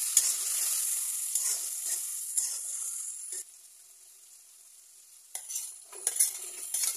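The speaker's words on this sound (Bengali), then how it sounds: "মশলাটা ভালো করে কষিয়ে নেব।" Spice masala with onion and garlic fries in oil as it is stirred, giving a soft sizzle and occasional utensil scrapes that drop away briefly midway, then return, close by and without voices.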